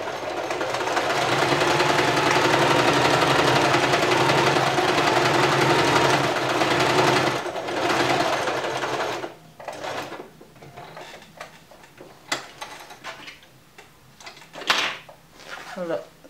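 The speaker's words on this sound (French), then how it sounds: "Et là, nous allons faire nos points zigzag." A sewing machine runs steadily while stitching zigzag stitches, a loud continuous motor whir for about nine seconds, followed by quieter handling clicks and taps.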